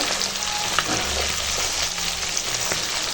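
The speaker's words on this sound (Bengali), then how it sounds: "পটকাটা শুধু এরকম ভেজে নেবো তেল ভাজা" Pufferfish fries in salted oil with a dense, continuous sizzle and crackle close by, with faint stirring and no speech.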